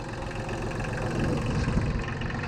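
Kubota L235DT diesel tractor engine idling nearby, a steady low rumble with a fast even knock, alone with no talk.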